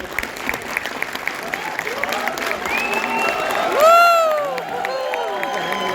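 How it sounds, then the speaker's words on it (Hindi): Sustained audience applause at a live show fills the space, with scattered cheers and a rising shout or whistle partway through, loud and continuous. "एक बार फिर से जोरदार तालियां।"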